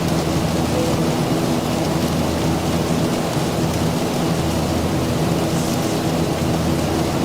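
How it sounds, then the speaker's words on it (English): A thunderstorm rumbles and hisses steadily around an aircraft cockpit in flight, a dense continuous wash of rain and low thunder noise with no clear breaks. "Gonna loop around the edge of this storm, avoid as much of it as we can"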